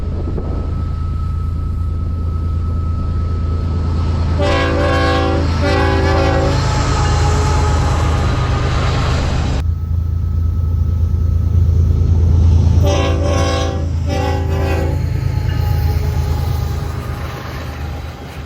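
A westbound freight train passes close and loud with a continuous rumble of rolling cars, while its horn sounds two separate long blasts partway through before the noise slowly fades.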